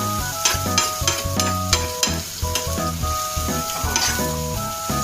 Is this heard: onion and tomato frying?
yes